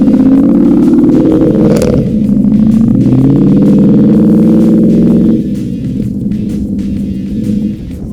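A 727-horsepower Ford Mustang Venom on Toyo tires launches hard in winter snow, its engine roaring loudly and steadily before easing slightly partway through.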